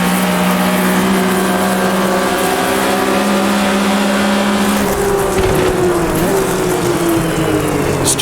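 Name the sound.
race car engine shifting up gears, Automobilista 2 video game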